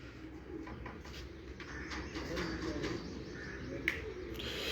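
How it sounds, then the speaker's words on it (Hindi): Pigeons coo softly on a rooftop loft, with faint, low, repeated calls and occasional chirps blending into quiet outdoor ambience. "माशाल्लाह बड़े अच्छे कबूतर उड़ा रहे हैं जी आप भी सिखर में"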